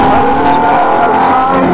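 A Ferrari F430 powering out of a corner on the Trac Mon circuit, its engine note loud and close, holding a strained, steady howl as the power comes in.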